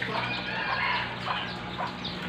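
Chickens cluck at a lively household fiesta, giving faint, scattered soft clucks and short calls over a low background hum, with no talk.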